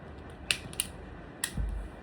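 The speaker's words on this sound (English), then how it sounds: "Now I will cut and show you the wire" An Ingco wire stripper snaps through a wire: a few sharp, close clicks and a snip, followed by a short low thud, with a quiet hum underneath.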